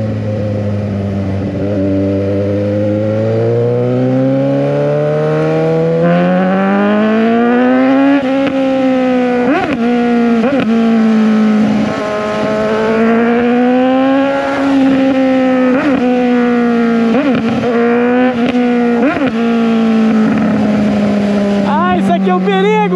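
Motorcycles, including a GSX 750, revving hard at a street meet as riders pull wheelies, a loud close engine note climbing and holding high with repeated throttle blips, crowd noise and voices beneath.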